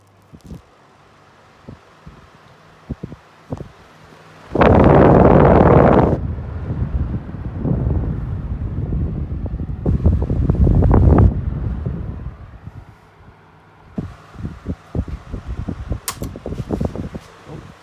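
A collectible electric fan runs up with a sudden burst of broad airy whooshing that surges, dips and swells again, mixed with rattly mechanical noise, then settles into lighter uneven whirring near the microphone.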